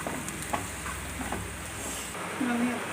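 Sprouted cashew curry is stirred in a pan, giving a faint scraping swirl over a low sizzle, close by and soft throughout.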